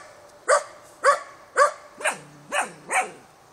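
Norwegian Elkhound dogs bark six times in a steady, evenly spaced series, loud and close, with the later barks dropping into a lower, slightly drawn-out tone.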